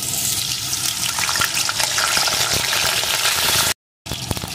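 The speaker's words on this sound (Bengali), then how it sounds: "এখন এর ভিতরে আমি টুকরো করে কেটে রাখা আলুটাকে দিয়ে দেব। আলুটাকে প্রথমে ভালো করে ভেজে নিতে হবে।" Cut potato pieces frying in hot mustard oil: a loud, dense, continuous hiss and crackle close by, cut by a brief silent gap near the end before the sizzle resumes.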